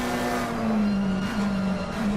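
Race cars, a McLaren and an Aston Martin, lapping Silverstone in a racing game, with a steady sustained engine drone at a constant pitch and even loudness throughout, no voices.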